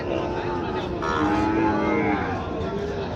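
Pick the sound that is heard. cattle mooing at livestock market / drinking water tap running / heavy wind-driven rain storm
cattle mooing at livestock market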